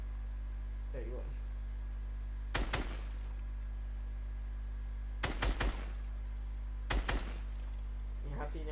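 Short bursts of gunfire in Fortnite aimed at a falling supply drop, three brief sharp volleys spaced a few seconds apart against a quiet humming background.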